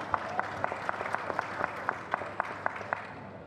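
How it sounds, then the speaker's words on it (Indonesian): An audience applauds at an Indonesian political party announcement event, a sustained wash of clapping with distinct sharp claps standing out at a regular pace, moderately near. "Kita berikan tepuk tangan yang meriah"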